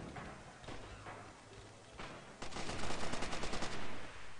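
Gunfire in Red Orchestra 2, with scattered shots early on, then a dense rapid burst of automatic fire over about a second and a half, fairly close and loud.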